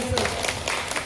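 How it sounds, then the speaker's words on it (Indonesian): Women's church congregation clapping during a worship service, a brief burst of crowd applause with voices mixed in beneath it. "Tepuk tangan buat Tuhan Yesus."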